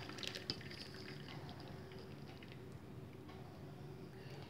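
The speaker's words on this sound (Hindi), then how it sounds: "धीरे से इसके ऊपर पनीर को छान लेंगे।" Whey from curdled milk pours and trickles through a sieve as fresh paneer is strained, a soft continuous liquid splashing with faint drips, quiet and close.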